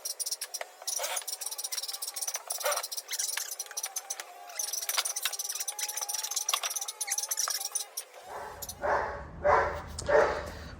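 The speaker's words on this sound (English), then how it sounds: "get that dog to stop barking" A dog barks repeatedly in short bursts in a workshop, the barks loud and fairly close amid clinks and rattles of metal parts during work on a VK Commodore 4-speed gear shifter.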